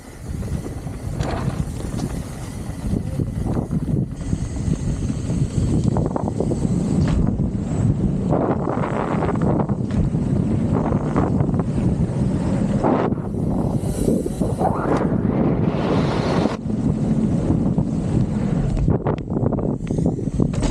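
Strong gusts of wind buffet the microphone on a mountain bike course, a rumbling, roaring blast that swells and fades in waves with no clear talk.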